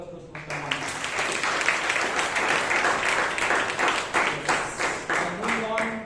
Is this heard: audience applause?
yes